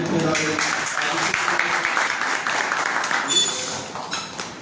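Audience applause at a university Har Ghar Tiranga program, honoring a departing controller on his last day; a dense, steady wash of clapping fills the room throughout, fairly loud and continuous with a slight swell near the end.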